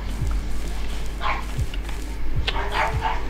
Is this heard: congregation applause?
no